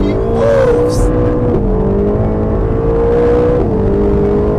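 Ferrari Roma engine roaring under hard acceleration from a launch-control start, loud and close from inside, with rising pitch broken by sharp gear shifts; a voice speaks briefly over it.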